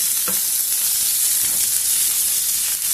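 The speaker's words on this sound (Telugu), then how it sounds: "పచ్చిమిర్చి, ఉల్లిపాయ ముక్కలు కొంచెం బాగా వేయించుకున్నాము" Green chillies and onion pieces fry in a hot pan for egg fried rice, a loud, continuous close-up sizzle with a few soft stirring scrapes. No talking.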